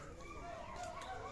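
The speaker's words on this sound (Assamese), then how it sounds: "আপোনালোকে দেখুৱাই আছোঁ ময়ূৰ" A peacock calls at a zoo in Guwahati, giving loud honking cries over a continuous busy background with voices murmuring nearby.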